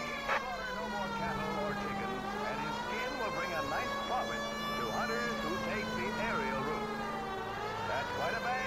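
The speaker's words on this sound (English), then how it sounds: "Alright, putting the sirens on." A police car siren in the video game L.A. Noire wails with a steady rising and falling tone over engine hum, while a voice talks over it throughout.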